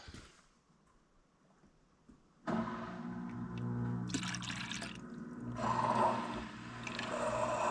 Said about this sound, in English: can you tip that bucket up so I can suck the rest of that out?